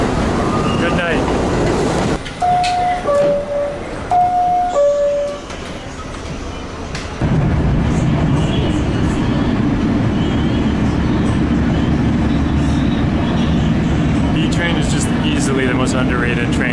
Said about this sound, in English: Underrated train for beauty in Manhattan.